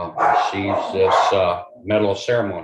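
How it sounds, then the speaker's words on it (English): A dog barks in the background of an indoor county board of commissioners meeting, several barks in two bursts that overlap someone speaking close to the microphone. "I apologize for that dog in the background."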